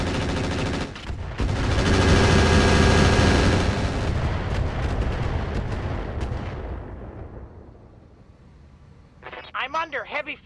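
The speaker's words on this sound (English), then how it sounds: "And more rockets." A mech in the RogueTech BattleTech game fires a loud salvo of rockets, a dense roaring barrage of blasts and rumble that swells then fades over several seconds, followed near the end by a brief burst of voices.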